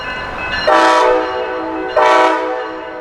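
A Brightline passenger train departing downtown West Palm Beach sounds its horn twice, two loud, close, chord-like blasts, the second shorter, over a steady background rumble.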